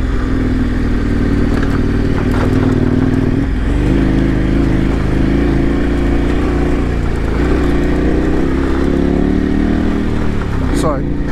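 A KTM 1090 Adventure R dual sport motorcycle engine hums and revs steadily while riding, with throttle rises and dips over constant wind noise, close and loud throughout.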